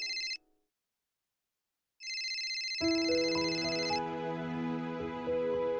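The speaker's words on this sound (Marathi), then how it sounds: "आनंदी, हा तुझ्या आबांचा फोन आहे." A telephone rings in a home with a repeating electronic tone, two short bursts separated by silence and then a sustained ring layered over a steadier musical ringtone, close and clear with no talking.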